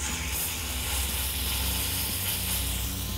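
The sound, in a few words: beef tenderloin sizzling in a hot pan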